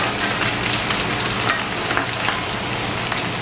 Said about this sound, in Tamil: போட்டு கோல்டன் ப்ரௌனாக பொரிச்செடுப்போம்.